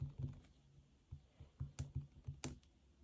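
Quiet typing on an iPad keyboard: a dozen or so light, uneven key taps close by, with a couple of sharper clicks near the end.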